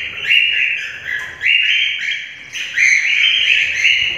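Young budgie and lovebird chicks chirping up close, repeated high rapid begging calls in overlapping bursts with brief pauses, loud and alone without talk.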